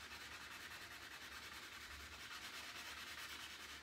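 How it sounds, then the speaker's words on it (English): Wood being wet-sanded by hand with a stain-soaked sanding sponge up to a joint between stile and rail, a steady soft rhythmic rubbing swish, faint and continuous with no speech. "So what we'll do is we'll sand right up to the joint like this."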